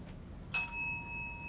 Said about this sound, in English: A single warning bell will sound 1 minute before the speaking time